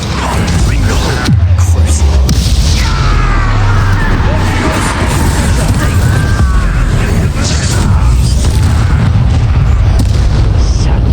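Bombarda spell explosions erupt during combat in the video game Hogwarts Legacy, with heavy booming blasts and crashing impacts rolling over a dense, loud battle din, and voices shout beneath the noise.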